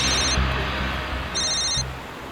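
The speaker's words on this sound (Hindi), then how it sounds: "विनीत का फोन" Telephone ringing with an incoming call, two bursts of a bright electronic ring about a second apart, fairly close against a low background hum.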